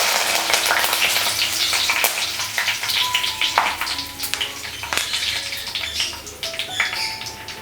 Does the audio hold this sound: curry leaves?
yes